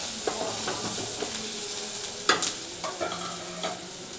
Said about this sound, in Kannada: ಉಪ್ಪು ಹಾಕೊಂಡು ಚೆನ್ನಾಗಿ ಫ್ರೈ ಮಾಡ್ಕೊಳ್ಳಿ.